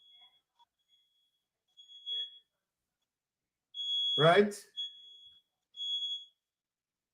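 Home alarm system sounding in short, faint high beeps repeated every second or two, interrupted midway by a brief spoken word.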